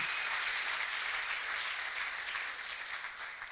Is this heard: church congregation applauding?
yes